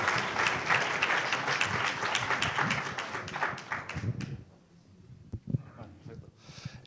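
Audience applause for an entrepreneur at a start-up award ceremony, a dense, loud burst of clapping from a crowd that fades out after about four seconds, leaving only a few scattered claps.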